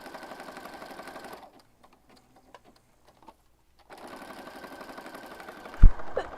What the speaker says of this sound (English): Stitching, stitching, stitching.